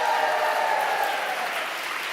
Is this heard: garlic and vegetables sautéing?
no